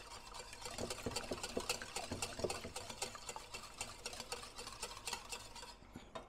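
Pancake batter is mixed in a bowl with a utensil, giving quiet rapid scraping and tapping strokes in a fairly steady rhythm, faint and close, with no talking.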